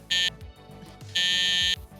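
Two loud electronic beeps, a short one and then a longer held tone, ring out as a sound effect between voices talking in a podcast.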